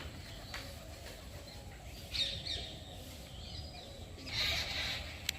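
Pigeons and crows gather for grain scattered at a Jain temple, giving faint chirps and a couple of brief squawks over a low, steady outdoor rumble.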